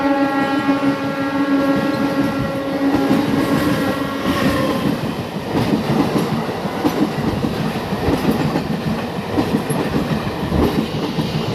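An LHB-coached Ranchi–Howrah Intercity Express, train 18628, runs through a junction in steady loud clatter, with a sustained horn-like tonal drone early on that fades into continuous wheel and carriage rumble.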